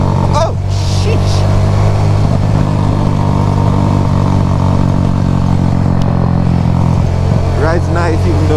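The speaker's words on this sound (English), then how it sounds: "This bike rides so nice." A motorcycle is ridden on the road in Jamaica after being repaired from an accident. Its steady, loud engine drone stays close throughout, with faint clattering now and then.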